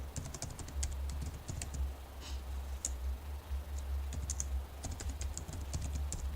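A layer name is typed on a computer keyboard in AutoCAD as quick bursts of close, light key clicks with a short pause in the middle, over a low steady hum, with no speech.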